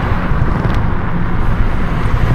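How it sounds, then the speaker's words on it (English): Cars pass on a road at night, a loud, continuous rumble of traffic with heavy wind buffeting on the microphone and no voices. "I don't know if you can even hear my voice with the cars there"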